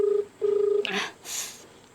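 Telephone dialing tones during a call: a steady beep tone pulses twice, then a burst of clicks and rustle follows, fairly loud with no talk.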